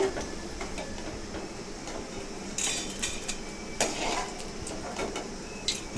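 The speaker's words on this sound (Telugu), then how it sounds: "ఈ విధంగా వేగిన తర్వాత ప్లేట్లోకి తీసేసుకోవాలి" Roasted red chillies, cumin seeds and coriander seeds are scraped from a pan onto a plate while making a spicy tindora fry, giving light metallic clinks and scrapes of utensil on cookware in short bursts over a quiet background hiss.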